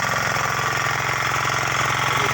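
A Honda Excalibur 192 motor tiller engine runs steadily nearby, a close, loud, rapid mechanical chugging with constant vibration and no voices.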